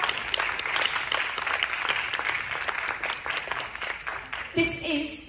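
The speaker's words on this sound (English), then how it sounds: "Give them another round of applause." Audience applause for two young performers at a school orchestra concert of Vivaldi's Four Seasons, a steady wash of many hands clapping throughout, with a brief voice surfacing near the end.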